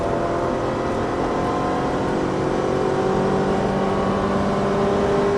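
Ferrari 458 engine at a stunt driving event accelerates steadily, a loud, dense, continuous roar that builds slightly in intensity with no pauses.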